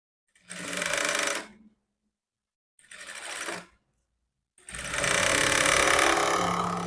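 A sewing machine stitches the round sleeve seam of a blouse, running loud and close in three bursts, two short runs with pauses between and then a longer continuous stretch.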